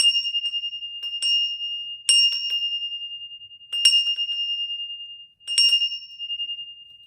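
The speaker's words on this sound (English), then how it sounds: "I'm gonna ring my bell." A small hand bell rung in four separate bursts, each a bright metallic ding with quick jingling strikes, then a long, clear ringing decay before the next shake; close and alone.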